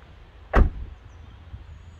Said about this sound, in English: By unlocking the doors, it has been made possible to open the door.